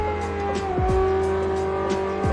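A video-game car drives through a dark night stage, its engine a steady, loud drone with a sustained whine, and a few sharp tire squeals or skids cut in briefly, with no voices.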